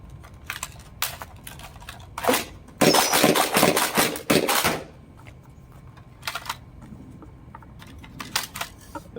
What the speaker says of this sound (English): The first dart goes in so easy, then every dart after that just gets way worse to load.